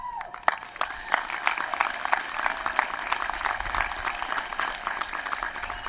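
Audience clapping at a high school graduation ceremony as seniors are presented, a crowd's steady overlapping claps with a few sharper close hits, continuous and fairly loud.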